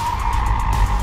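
A car launches at full throttle with its tires skidding, a short, loud burst of engine roar and squealing rubber lasting about a second.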